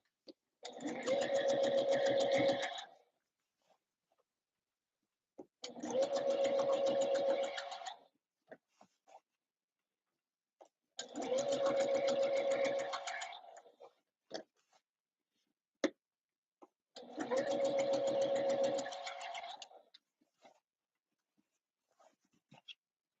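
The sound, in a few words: sewing machine stitching Christmas dresses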